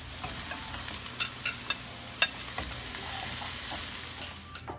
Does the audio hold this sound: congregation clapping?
no